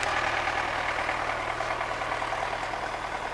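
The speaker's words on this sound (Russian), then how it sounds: "видно, что трактор подымает, его козлит" A tractor engine labours under load while lifting a heavy round bale of haylage, a steady close rumble with a low drone and slight knock, continuous and loud throughout with no talking.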